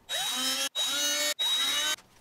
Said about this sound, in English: Now I could drill,